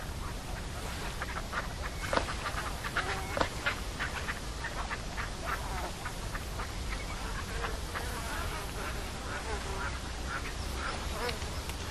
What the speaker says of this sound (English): Nice bird, the mallard.